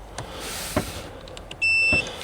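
A steady electronic beep from a multimeter continuity tester checking the air suspension wiring of an L322 Range Rover, one sustained high tone lasting about a third of a second amid faint clicks and handling noise.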